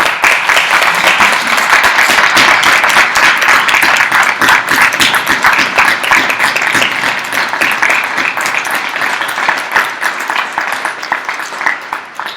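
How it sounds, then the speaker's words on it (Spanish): An audience at a tribute event applauds loudly for a long stretch, dense rapid clapping from many hands that stays strong and then gradually thins and fades toward the end. "Pido un fortísimo aplauso para esa actividad."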